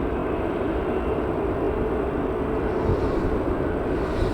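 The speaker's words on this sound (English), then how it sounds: "the Jet2 Airbus A321neo going to Paphos" A Jet2 Airbus A321neo bound for Paphos at Manchester Airport gives off a steady, broadband engine roar that holds loud and constant throughout, with no voices.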